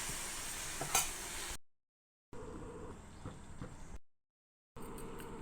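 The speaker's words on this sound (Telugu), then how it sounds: "కొత్తిమీర వేసి ఇలా కలిపేస్తాం." Coriander being stirred into a frying curry on the stove, a soft steady sizzle with scraping in short stretches broken by gaps of silence.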